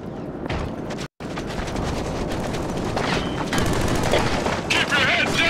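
Killzone 3 battle gunfire: dense rattling machine-gun bursts and rifle shots pound almost continuously, loud and close, with a short dropout, booms and shouted voices mixed through the noise.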